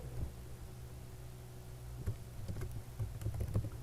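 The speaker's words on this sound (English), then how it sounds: "So you type something in here" Fingers tapping a computer keyboard, a few soft keystrokes early, then a quicker irregular burst of clicks close by in a quiet room.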